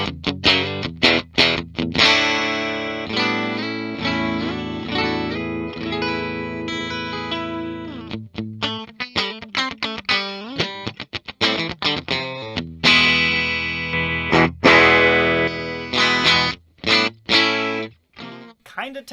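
A 2016 Gibson Les Paul Custom electric guitar on a split humbucker pickup plays clean, bright picked notes and chords with effects, phrases ringing out and decaying over about twenty seconds, loud and close.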